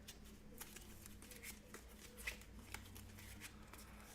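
A large deck of about a hundred playing cards is shuffled for a tabletop boxing game, giving quiet, steady riffling and flicking patter that continues without talk.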